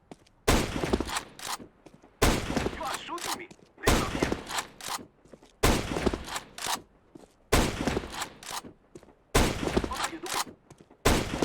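Scout sniper rifle shots fired while jump-peeking in CS:GO, six sharp loud cracks spaced evenly about every 1.7 seconds, each trailing off in a short echo.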